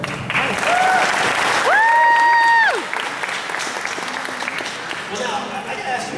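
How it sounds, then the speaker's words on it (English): An audience at a Power Morphicon 2012 convention panel applauds with steady, loud clapping, while a voice and scattered cheers rise above the crowd partway through. "So give these guys a round of applause."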